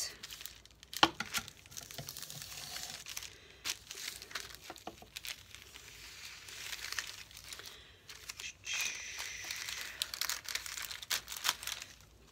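Paper being cut for a journal, with soft crinkling, snipping and rustling handling sounds, close and fairly quiet, irregular in rhythm, with a few sharper clicks along the way.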